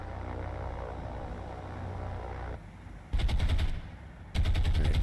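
Warship anti-aircraft guns in a naval combat game open up in two loud sustained bursts of rapid fire over a low engine hum, with a quieter lull between them.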